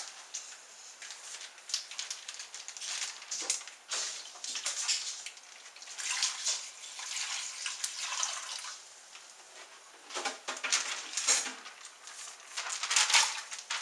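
Distilled water sloshing and splashing inside a can, with irregular bursts of shaking and dripping, fairly quiet and close.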